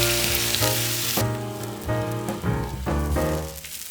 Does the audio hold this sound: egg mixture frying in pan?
yes